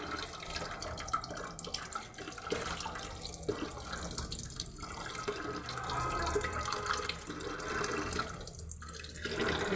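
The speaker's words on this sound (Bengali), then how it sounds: "এটা দিয়ে আস্তে করে জল ভরবো জল ভরে ঝাঁকিয়ে আমি জল ভরছি" Water poured slowly into a face ice massager, a steady close trickle and splash running throughout at low level, with no talk.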